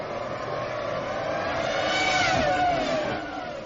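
Formula 1 cars of the 1998 season, McLaren Mercedes and Ferrari among them, launching at a race start: a dense, rising high-pitched engine whine from many cars accelerating together, swelling then easing, heard from a distance.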